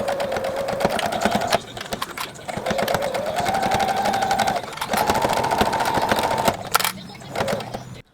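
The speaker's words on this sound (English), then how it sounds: "then we'll go in with a straight stitch just along one side" A sewing machine runs a steady straight stitch along one side of a quilted fabric scrapbook cover, its motor whirring in long continuous bursts with short pauses between, close and fairly loud.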